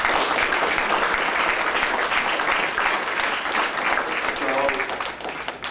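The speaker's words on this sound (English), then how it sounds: "Can we please give him another round of applause?" Sustained, dense applause from a large conference audience at an opening session in Miami, steady and loud throughout before tapering slightly at the end.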